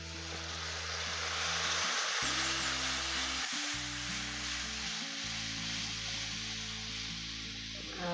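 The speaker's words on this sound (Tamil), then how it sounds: "இப்போ அந்த குழம்பு எடுத்து அப்படியே ஊற்றலாம்" Fish curry is poured into a hot onion-tomato tempering, giving a steady, close sizzle that runs throughout beneath sustained droning tones.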